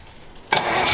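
A 1934 Ford Tudor engine cranks over, trying to start after a quiet half second, with broadband churning noise that holds steady and close to the end.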